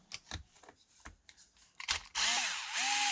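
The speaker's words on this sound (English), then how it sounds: "I'm going to go ahead and go after these two long screws here." A power driver whirs loudly in two bursts as long screws come out of an Arrma Outcast 4s V2 RC car on a repair bench, with rising and falling motor pitch after some close clicks and handling sounds.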